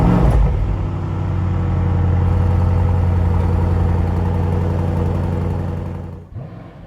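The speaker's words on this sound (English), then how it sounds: "So let's start the engine." A 2023 Mercedes S63 AMG V8 fires up with a loud burst, then settles into a steady, deep idle that holds close and strong for several seconds before cutting off.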